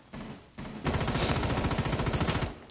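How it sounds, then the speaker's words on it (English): In a Rainbow Six Siege esports playoff match, an automatic weapon pre-fires through a wall. A faint shot comes first, then a loud, rapid sustained burst rattles for nearly two seconds before stopping. "Pre-firing that wall, getting a possible look to get a possible kill."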